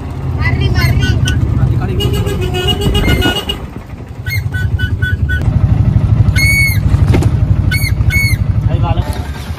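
An auto rickshaw's engine chugs with a steady pulsing rumble while people talk over it, and bright horn toots and squeaks sound now and then.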